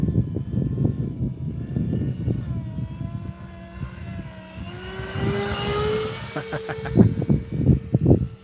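A Blitz RC Works V-22 Osprey radio-controlled model aircraft flies past outdoors, its whining motor rising and sliding down in pitch as it passes, under wind noise and rustle close to the microphone.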